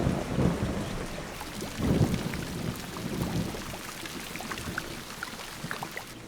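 Heavy tropical rain pours steadily through forest canopy while deep thunder rolls in low bursts, loudest near the start and around two seconds, then settles into a continuous dense patter.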